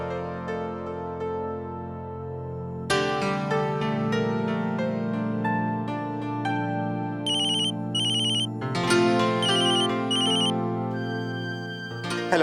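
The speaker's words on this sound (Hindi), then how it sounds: "मैं नैतिक को फोन करके आता हूँ।" A telephone ringtone plays a melodic electronic tune, loud and close, with bright repeating chirping tones joining partway through; no voices over it.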